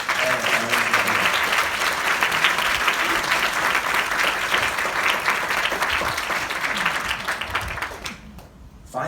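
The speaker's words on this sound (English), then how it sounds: "let me invite the scholars to give a round of applause to thank all the parents who are here" Scholars at an award presentation clap in sustained, dense applause for the parents, steady and loud for about eight seconds before tapering off at the end.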